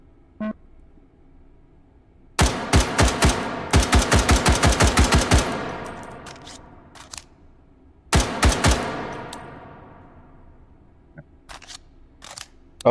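Semi-auto bullpup rifle firing in a video game, loud sharp shots in quick clusters: a few quick rounds, a longer rapid string, two isolated shots, then another short burst, each shot leaving a brief ringing tail.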